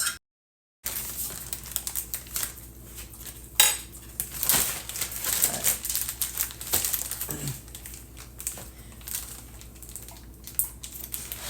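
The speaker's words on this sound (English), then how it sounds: "Now I'm going to get a spoon and get this last little bit out of here." A metal spoon scrapes and clinks against a container while the last bit of cooked meat prep is scooped out, a run of light, irregular tapping and scraping at close range.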